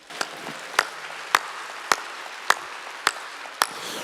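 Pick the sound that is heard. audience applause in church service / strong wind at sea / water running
audience applause in church service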